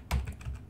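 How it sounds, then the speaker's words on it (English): A few quick keystrokes on a computer keyboard, a brief cluster of soft clicks heard up close and alone. "Oops, I'm not typing well."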